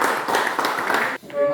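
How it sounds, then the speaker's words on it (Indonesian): A small group of participants in a classroom session claps for a presenting group, brisk and fairly close, stopping abruptly near the end as a voice begins to speak. "beri tepuk tangan ya kelompok satu ya."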